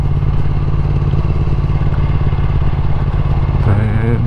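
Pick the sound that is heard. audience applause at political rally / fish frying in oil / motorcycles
motorcycles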